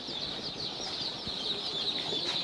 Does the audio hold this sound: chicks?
yes